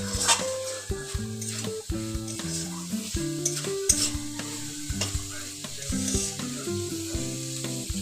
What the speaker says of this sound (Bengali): এবার আমি এর মধ্যে দিয়ে দেবো কড়াইশুটি এবার আঁচটা আমি আমি লো টু মিডিয়াম করে এটাকে খুব ভালোভাবে কষিয়ে নেব